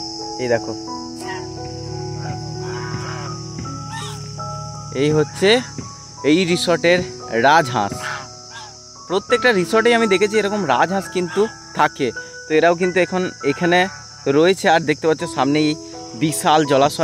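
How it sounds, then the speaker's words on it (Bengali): Crickets chirp in a steady high-pitched drone at a resort beside a large lake in Bardhaman, continuing under a man's speech throughout. "অজস্র ঝিঝি পোকার ডাক"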